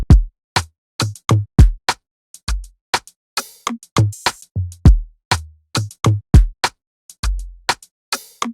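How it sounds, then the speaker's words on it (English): Bass line from converted MIDI, playing short, punchy plucked notes in a syncopated rhythm with clear gaps between them, loud and alone. "The bass sounds something like this."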